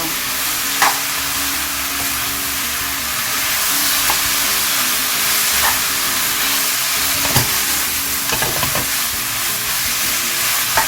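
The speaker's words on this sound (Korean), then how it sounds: "때 부추를 넣어줍니다. 부추는 좀 많이 넣어주세요." Pork, onions and garlic chives stir-fry in a pan with a loud, steady sizzle and occasional sharp scrapes and taps of a utensil.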